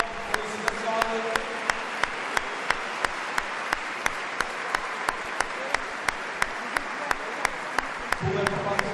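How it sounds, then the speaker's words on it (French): A frontball world tour crowd claps for the champions, a sustained wash of applause with sharp regular claps standing out, steady and moderately loud. "Je pense qu'on peut les applaudir une dernière fois."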